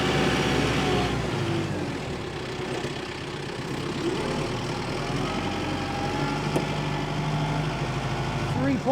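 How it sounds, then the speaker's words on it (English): A 2022 Kubota M7060D tractor with an LA1154 loader idles and rumbles steadily while turning, a low continuous diesel drone at moderate distance with faint talk over it. "See how nice the tractor turns."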